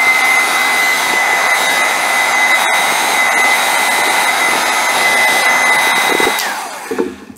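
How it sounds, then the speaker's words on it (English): A heat gun blows hot air in a steady, loud, even whoosh with a high whine running through it, cutting off near the end, used while building DIY planar magnetic headphone drivers. "Heat gun time."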